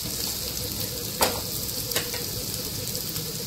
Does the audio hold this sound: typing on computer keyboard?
no